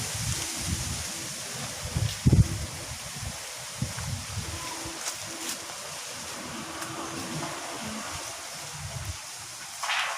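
Wind gusts through garden plants outdoors, a continuous breathy rush with rustling foliage and occasional low buffeting thumps as stronger gusts hit.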